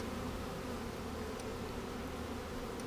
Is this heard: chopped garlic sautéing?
no